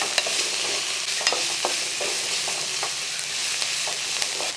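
Onions and halved green chillies fry in a pan while being stirred, a soft sizzle broken by light scraping and clicking taps at irregular intervals.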